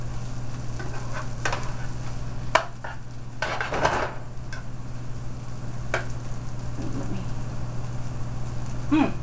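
A spoon stirs salted potatoes in a sizzling pan, making a few scattered scrapes and clacks over a steady hum and a soft, continuous frying hiss.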